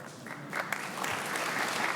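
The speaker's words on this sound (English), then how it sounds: "I'll let her know you clapped" Audience applause at a mayor's national summit on racial inclusion, a short burst of many hands clapping that builds and holds for two seconds in a large room.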